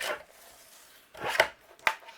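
Paper trimmer cutting a crafting paper panel, a soft scraping slide followed by two crisp clicks, close and quiet with no talking.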